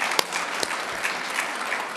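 An audience at a panel discussion on family-friendly workplaces claps steadily, a dense, even wash of applause with no one speaking over it.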